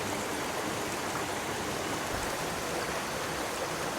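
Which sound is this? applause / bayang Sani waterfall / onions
bayang Sani waterfall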